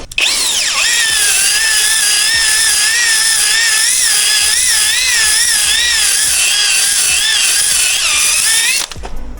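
A cylinder hone spins steadily inside a drill while a two-stroke Kawasaki KX250 cylinder is rebuilt, giving a loud continuous whine with wavering pitch that runs unbroken for about nine seconds before stopping abruptly.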